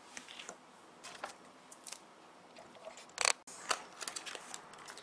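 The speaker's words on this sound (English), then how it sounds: "Just tear some more tape off." Adhesive tape ripped off the roll while a light-up shadow box is assembled, one quick sharp tearing burst near the middle amid faint small handling clicks and rustles, close and quiet.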